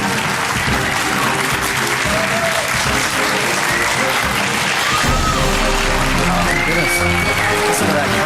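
Large crowd applauding and cheering at a live gaming tournament event in Helsinki, Finland, a dense, steady roar of clapping and shouts throughout.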